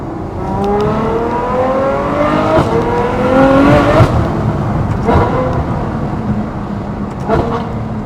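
A Ferrari F12 with a V12 engine driven in race mode with manual shifting, loud and close from inside, revving up through rising sweeps with shifts between gears, no talking.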